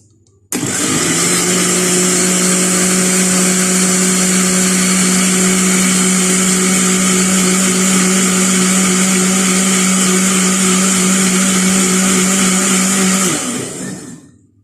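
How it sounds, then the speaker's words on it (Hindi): An electric blender whirs steadily while blending yogurt and gram flour in a jug, starting abruptly, running at a constant loud pitch with a strong motor hum, then spinning down and stopping near the end. "जग में दही ऐड करेंगे और साथ ही बेसन डाल देंगे और अब हम इसको ब्लेंड करेंगे"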